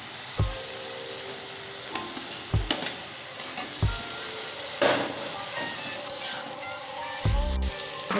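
Paneer goes into a hot pan for a paneer recipe, giving a sizzle and frying hiss. A utensil stirs and scrapes repeatedly, with several low thumps and clunks against the cookware.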